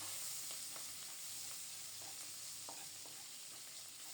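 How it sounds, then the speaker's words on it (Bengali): Shrimp coated in turmeric and salt fry in a pan with a faint, steady hiss, plus a few soft, scattered pops, quiet and unbroken by any speech. "এই কয়টা চিংড়ি মাছও বেছে কুটে পরিষ্কার করে হলুদ লবণ মাখিয়ে ভাজতে বসিয়ে দিয়েছি"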